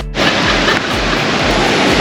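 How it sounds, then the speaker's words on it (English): Waterfall at Semuc Champay in Guatemala roars as a steady, loud broadband rush of falling water, constant and close, with no voices over it. "I can see the water. Look. Waterfall."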